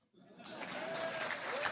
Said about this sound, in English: Okay, now clap.